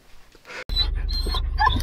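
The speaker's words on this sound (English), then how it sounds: "The dogs are very excited." Excited dogs pant and huff rapidly at close range in a short burst, with a faint whimper at the start, just before a road trip on a snowy day.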